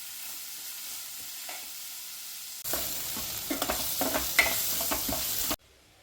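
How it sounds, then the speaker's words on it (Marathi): Onion with salt frying in a pan toward golden brown: after a quiet start, a loud, close crackling sizzle sets in with a few stirring scrapes, then cuts off abruptly. "कांदा छान गोल्डन ब्राऊन होईपर्यंत फ्राय करून घेणे"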